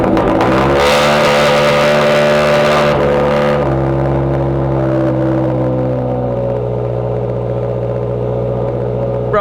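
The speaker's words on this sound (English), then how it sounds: "It's time for a freaking cold start with the new exhaust." A turbocharged Subaru BRZ with a new exhaust fires up from cold with a very loud, gnarly roar and a high-revving flare. After about three seconds it drops and settles into a steady, droning idle.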